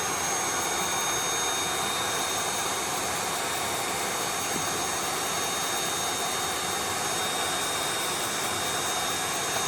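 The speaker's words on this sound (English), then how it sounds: "I'm just gonna use my little vacuum, and we're gonna go to town with the brush." A small handheld vacuum with a brush attachment cleans dust from a PlayStation 5 console, giving a steady, loud whine and rush of air. The sound runs unbroken for the whole stretch with no talking.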